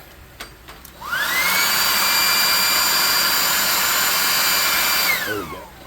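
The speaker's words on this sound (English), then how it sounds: "Grab my blow dryer." A blow dryer blasts hot air onto cardboard, switching on with a rising whine into a loud, steady whooshing hiss held for about four seconds before spinning down, close and alone.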